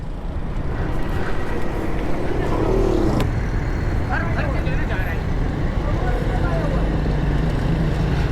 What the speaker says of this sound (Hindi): ट्रैफिक की रवानी जो है इस वक्त नॉर्मल है